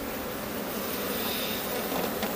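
Honeybees buzzing over hive frames crowded with drones and packed with pollen during an artificial swarm split, a faint, steady, dense hum with no talk.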